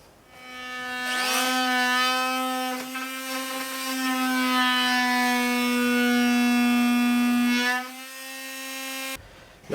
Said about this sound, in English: an oscillating tool perhaps. Anyway, I'll use this to get most of it done